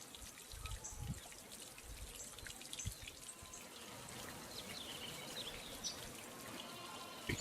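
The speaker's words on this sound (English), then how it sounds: "Observing the surface of the water in the fountain" Water trickles and splashes in an ancient stone ceremonial fountain, or Paqcha, at Huarautambo, Peru, a soft continuous flow with scattered drips and small splashes, fairly faint and with no voices.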